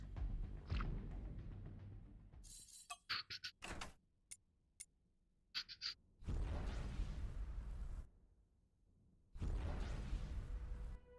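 Torpedoes launched in the space game Avorion: a few separate whooshing, booming bursts with short mechanical clicks between them, then two long heavy roaring blasts, loud and close.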